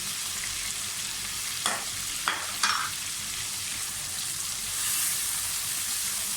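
Onions frying in a pan for chicken spaghetti, a steady close sizzle with a few brief stirring clatters partway through.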